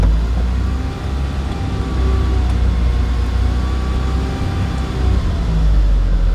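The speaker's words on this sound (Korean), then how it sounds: "엑셀 소리가 부응 나야 돼요" A car engine runs at steady low revs under the accelerator during a manual-transmission driving lesson, a continuous loud rumbling drone with a faint rising whine.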